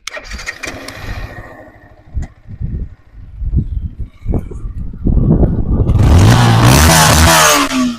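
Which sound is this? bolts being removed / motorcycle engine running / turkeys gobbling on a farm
motorcycle engine running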